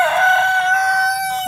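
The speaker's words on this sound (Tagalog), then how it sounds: "Ayan, manok na pangsabong." A fighting rooster on a farm crows loudly and close by, one long drawn-out call that carries through the whole moment with no voices.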